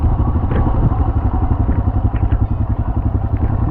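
A motorcycle rides through heavy snowfall on Chang La pass in Ladakh, its engine a loud, close, steady pulsing rumble with occasional clatter and thumps from the road.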